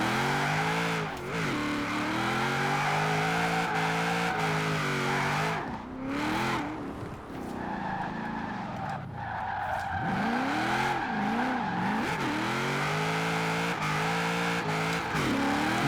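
HVS GTSR 1000 hp drift-build car in the Forza Horizon 4 racing game, engine revving up and down while the tires squeal and skid in long sliding bursts, loud and continuous with a short lull midway.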